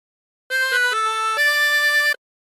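A 16-hole tremolo harmonica plays a short melodic phrase of God Rest Ye Merry Gentlemen, clear and close, with several sustained notes and a wavering reedy tone, played alone with no talk.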